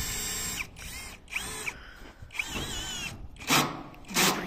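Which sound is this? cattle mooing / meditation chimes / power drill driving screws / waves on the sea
power drill driving screws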